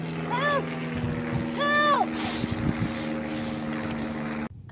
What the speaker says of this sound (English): Hey, plane!